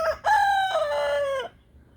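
A barred rock Easter egger cross rooster crows once, loud and close, a long cock-a-doodle-doo with a rising start and a held, falling end, followed by quiet.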